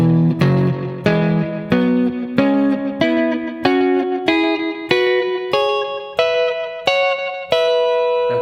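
An electric guitar with effects and reverb plays a neo soul style major pentatonic line in stacked fourths and thirds, about a dozen evenly spaced chords rising steadily in pitch, clear and alone.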